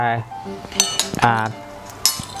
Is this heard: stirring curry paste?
yes